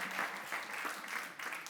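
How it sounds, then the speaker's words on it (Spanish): A church congregation applauds, the clapping faint and distant, a soft continuous patter lasting under two seconds. "Denle un aplauso al Señor"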